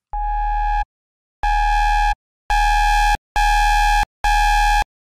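A Serum synth bass built from two sine waves, one pitched four octaves and five semitones up, run through distortion: five loud, buzzy, harmonic-rich sustained notes separated by short silences.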